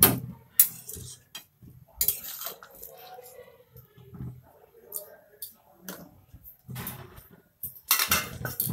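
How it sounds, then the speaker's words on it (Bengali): A metal lid clatters onto a cooking pot, followed by scattered clinks and taps of cookware in a home kitchen, with faint talk in the background. "ঢাকনাটা ঢেকে রেখে দিচ্ছি"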